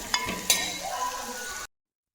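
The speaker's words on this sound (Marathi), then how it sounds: "छान मोहरी तडतडून दिली ही बघा" Mustard seeds crackling in hot oil with asafoetida and turmeric for dal tempering, a few sharp pops over a steady close sizzle that cuts off abruptly.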